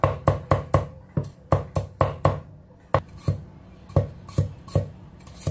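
A knife chopping ginger slices into mince on a board, rapid close taps in quick bursts of several strokes with short pauses between, no voices.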